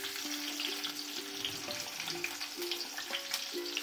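Onions sizzling steadily in a pan for semiya upma, a close, continuous crackle with light stirring and soft tonal beeps over it.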